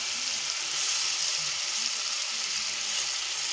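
Ginger garlic paste and mint leaves sauté in hot oil for a vegetable pulao, producing a dense, even sizzle that holds steady and close throughout with no voices.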